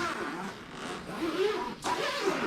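A zipper being drawn open on the gig bag of a Grote GR Standard S super strat guitar: a close, raspy scraping that runs in uneven pulls across a couple of seconds.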